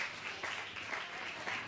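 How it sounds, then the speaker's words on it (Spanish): Brief applause from a crowd at a community health fair and grand opening celebration, a short steady burst of many hands clapping at moderate distance. "Un aplauso bien grande para Jack Gloeckman"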